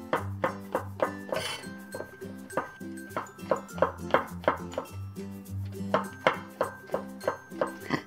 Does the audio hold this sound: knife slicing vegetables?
yes